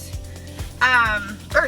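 Two sharp, high-pitched dog barks ring out nearby, a longer yelp followed by a short yip, with soft thumps before them.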